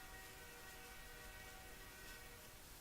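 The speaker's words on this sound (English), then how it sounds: "Sorry if you hear train." A train passes in the background as a constant broad rumble with faint tonal hum and rail noise, steady and fairly quiet, with no talking.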